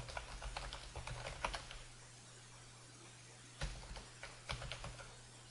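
Typing on a computer keyboard while installing Linux Mint: scattered clusters of light key clicks at moderate distance, with a pause in the middle, over a steady low hum.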